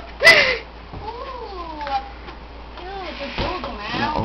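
A cat meows several times in drawn-out, rising and falling calls over a few seconds, close and fairly loud, with a brief splash and a voice nearby.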